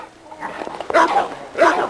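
A seven-month-old young dog barks in a dog yard, letting out two sharp, loud, yelping barks close by with a whimper between them.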